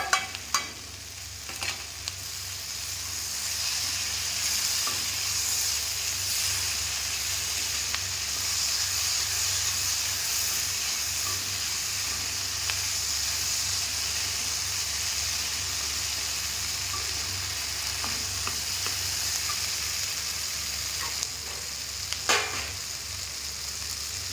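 Green chillies frying in hot oil in a pan give a steady, continuous sizzle with occasional stirring clicks, even and close throughout with no talk.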